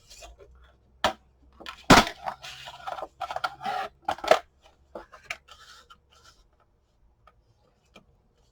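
Scissors snip paper for a handmade mini album in a few close, crisp cuts and rustles, with one louder snap, then quiet handling at the end.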